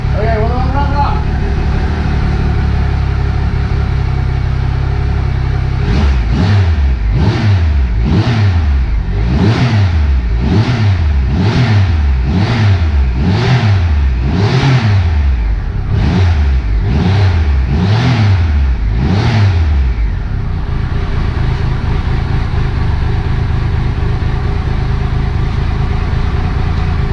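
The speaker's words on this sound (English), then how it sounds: "we got the old 3-cylinder garden tractor fired up. It's like an angry lawnmower" An old three-cylinder garden tractor engine with a stock exhaust pipe revs loud and near, rasping like an angry lawnmower: about a dozen rhythmic rev-ups and drops, then a steady idle drone.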